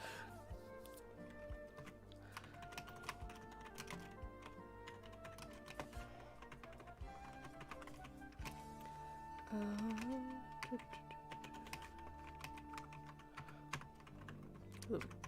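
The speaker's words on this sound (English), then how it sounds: "Give you guys a little bit of keyboard ASMR." A computer keyboard types in a rapid, continuous clatter of close, quiet keystrokes. Soft talking and a brief humming tone are mixed in.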